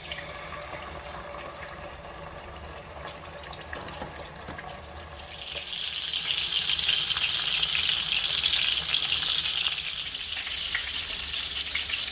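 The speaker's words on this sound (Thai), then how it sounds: "ทอดปลาทูจ้ะ" Mackerel frying in hot oil, a steady crackling sizzle that swells louder halfway through and holds on, close and continuous with no talk.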